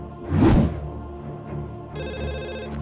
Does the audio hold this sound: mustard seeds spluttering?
no